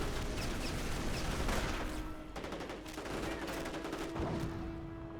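An M3 and other units trade fire in a Company of Heroes battle, with rapid bursts of gunshots and volleys in a dense, continuous clatter and a faint tone over the noise.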